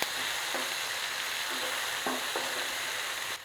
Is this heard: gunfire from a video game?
no